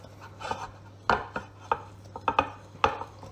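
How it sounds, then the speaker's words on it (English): Coconut and pineapple cake batter stirred in a bowl, a spoon scraping and knocking against the sides in irregular close strokes, with a faint steady hum underneath. "let's give that a bit of a stir"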